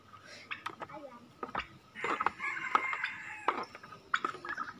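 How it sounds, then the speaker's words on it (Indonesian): Chickens cluck and a rooster crows outdoors on a cold, foggy morning at a farm in Lembang, with scattered calls near and far while people talk over them. "Wah, ayamnya pada keluar."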